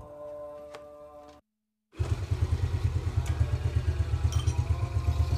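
A rebuilt Yamaha Vega ZR motorcycle engine runs with a steady, smooth idle thrum after a brief gap, preceded by a short burst of tonal machine noise, close and moderately loud with no talk.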